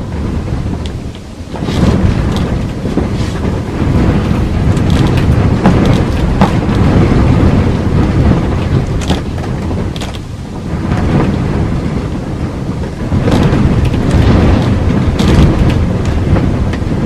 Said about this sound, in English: the wind is pushing the camper.